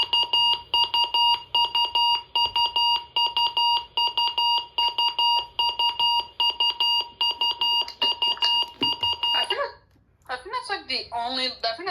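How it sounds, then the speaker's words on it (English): A loud, rapid electronic test beep from a RadioShack radio scanner in user set mode pulses steadily for several seconds, then stops and gives way to a short burst of chirpy tones. "Here's the test beep."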